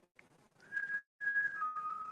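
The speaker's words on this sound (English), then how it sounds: "We were just hearing whistling right before you guys walked in." A person whistles inside a historic firehouse in Key West, holding sustained steady tones in short phrases with brief gaps, fairly faint and without talk.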